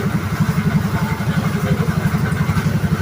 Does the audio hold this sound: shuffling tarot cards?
no